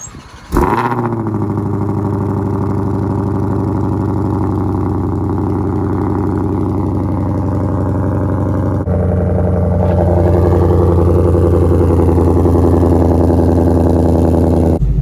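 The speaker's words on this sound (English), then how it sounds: "But let's get a cold start." A 2020 Shelby GT500 engine cold starts with a sharp crank and catch, then settles into a loud, steady, rumbling high idle that stays close and continuous with no talk.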